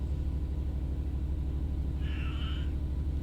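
A cat meows once, a short rising-and-falling call heard faintly over the steady low rumble of a moving Class 66 freight train cab.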